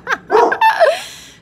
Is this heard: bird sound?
no